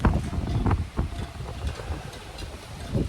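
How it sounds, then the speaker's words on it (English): Strong, hot, dry southerly wind gusting outdoors, roaring and buffeting close against the microphone in steady rushes, with no talking. "There's a hell of a wind blowing out of the south."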